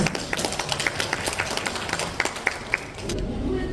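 Scattered audience clapping at a traditional Korean daegeum sanjo concert in Busan, a modest round of individual claps with sharper isolated hits that thins and stops near the end.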